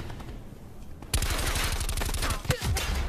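Rapid automatic gunfire in the Black Ops multiplayer video game erupts after a quiet second, a dense loud burst of shots continuing to the end with a brief sharper crack midway.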